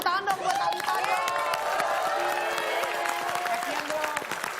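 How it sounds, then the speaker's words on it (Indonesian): A television talk show studio audience applauds a guest, steady crowd clapping mixed with cheers, whoops and shouting voices that carry on for several seconds. "Boleh kita tepuk tangan dong buat Thalita dong."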